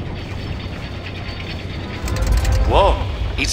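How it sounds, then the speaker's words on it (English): A steam drum mechanism in the video game Wizard101 turns with a mechanical grinding and whirring that swells partway through, alongside a low rumble and a brief tonal chirp. "Now you must rotate the steam drum."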